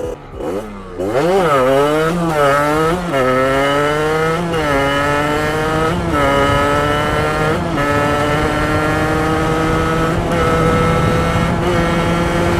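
A carbureted motorcycle engine revs up and down repeatedly while warming up, rising and falling whines from a loud nearby motor that settles into a steady high idle.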